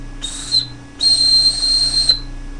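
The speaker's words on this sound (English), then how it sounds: "But it does have a whistle on there. There's a pretty good whistle." Two shrill blasts from the whistle built into a Bear Grylls Ultimate Fixed Blade survival knife, a short one followed by a longer sustained one, loud and close with no talking.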